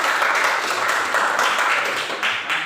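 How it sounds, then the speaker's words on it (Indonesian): Secondary school students in a religion class clapping together, a dense, steady burst of applause close by that gradually thins toward the end. "Oke, terima kasih, tepuk tangan dulu."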